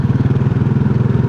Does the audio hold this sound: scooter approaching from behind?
yes